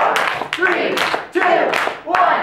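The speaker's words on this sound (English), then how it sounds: "we're going to try the clapping and yelling the numbers" An improv show audience claps and yells together in rhythmic bursts, loud and close, with crowd voices mixed through the applause.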